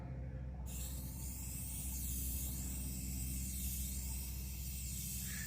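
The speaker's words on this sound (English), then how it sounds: "we are using spray cans" Aerosol spray cans lay a base coat of paint on a Mustang body, giving a steady, continuous hiss that starts sharply and holds close and even throughout, with low shop hum underneath.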